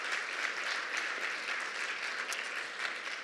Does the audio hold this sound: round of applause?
yes